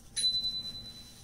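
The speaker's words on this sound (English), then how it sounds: "He just rung my bell on my bike." A bicycle bell gives a single bright ding that rings on and fades slowly over a quiet room background.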